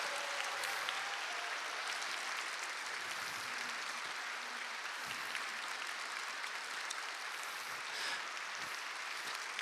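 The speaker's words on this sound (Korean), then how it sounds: "우리 사랑부 귀한 친구들에게 우리 들어갈 때까지 다시 한번 큰 박수" Sustained applause from a church congregation for a children's choir group at a Sunday morning service, a steady wash of clapping lasting throughout without a break.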